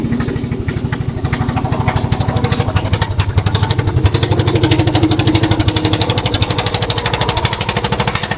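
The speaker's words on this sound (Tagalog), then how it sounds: "May bangka pa na, dumadaan." A steady, rapid engine chug runs throughout, loud and close, with a throbbing mechanical rhythm as a small motorboat (bangka) passes near.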